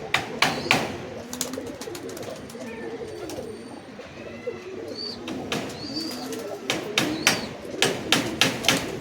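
Female pigeons, among Giribaz and Teddy high-flying breeds, coo in low throaty rolls that overlap throughout, joined by occasional sharp tapping clicks and faint higher chirps in the background.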